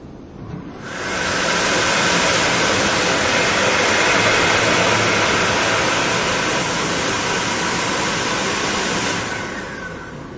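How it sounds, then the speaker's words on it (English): A Uni-klima Jet Towel hand dryer starts up as hands go inside, pushes out a loud, steady rush of high-speed air for about eight seconds, then cuts off sharply. "The dryer doesn't come on until my hands are right inside the machine."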